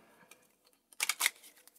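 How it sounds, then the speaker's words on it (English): Cards from the Pandemic board game being shuffled by hand: a few soft riffling bursts, close and fairly quiet, with a brief flurry near the middle and no talking. "That was a terrible shuffle, but I'm okay with that."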